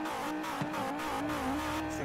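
A five-cylinder car engine in the racing game Forza Horizon 4 revs in a steady, moderately loud drone with small rises and dips in pitch, with brief breaks between pulls.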